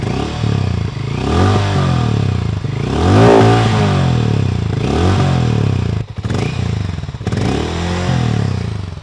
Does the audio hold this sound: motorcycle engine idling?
yes